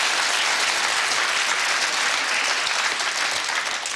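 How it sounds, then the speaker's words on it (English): Studio audience at a UK television game show gives a big round of applause, a loud, dense, continuous wall of clapping from start to finish. "a big round of applause for him again"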